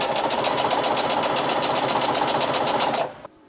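A sewing machine runs a straight basting stitch along the edge of a dress with a fast, even mechanical chatter, loud and close, then stops abruptly near the end with no talking.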